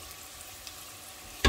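Cheeseburger egg rolls sizzle steadily in hot oil, a faint continuous frying hiss that ends in a short loud clatter as they are flipped.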